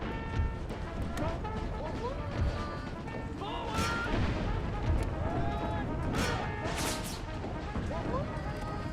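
Artillery fire from a Civil War battle in Empire: Total War rumbles in a dense, continuous wash of booms and cracks, with several sharper blasts rising above the steady battlefield din.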